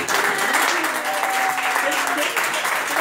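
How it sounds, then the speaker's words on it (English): An audience claps briefly in a busy room, dense applause with speech mixed in throughout, moderately loud and steady for a few seconds. "let's just give Mays a round of applause."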